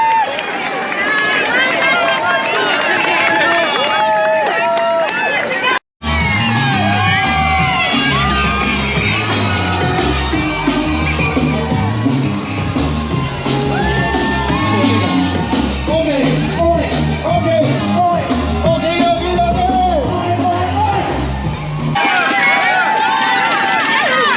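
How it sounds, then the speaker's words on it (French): A huge crowd lines the course of the 2023 London Marathon and cheers the passing runners. The shouting, whooping and roar go on without a break under the sound of running and a close voice talking. "une foule incroyable, énormément de monde, et incroyable"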